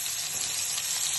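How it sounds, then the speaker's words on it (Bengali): Potatoes coated with salt and turmeric frying in hot oil for mutton kosa, giving a steady, close, continuous sizzle with no talk over it. "আলুগুলোকে নুন হলুদ দিয়ে মাখিয়ে ভাজতে দিলাম"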